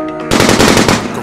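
Rapid automatic gunfire from a video game played with a real-life mod bursts in after a brief quiet lead-in, a loud continuous rattle of shots that tapers slightly at the end.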